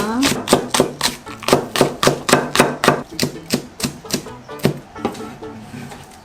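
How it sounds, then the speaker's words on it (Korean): A knife rapidly minces a stalk of green onion on a cutting board, a close, loud series of evenly spaced chopping thuds in a fast steady rhythm. "이렇게 대파 한 뿌리 정성 다져줄게요."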